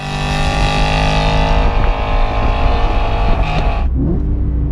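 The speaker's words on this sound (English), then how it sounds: "The blips are just so intoxicating" BMW E92 M3 engine revving with throttle blips, a loud, close, sustained engine roar that cuts off sharply near the end, with no talking.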